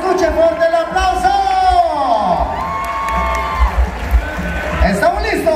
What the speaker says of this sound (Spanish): escuchen fuerte el aplauso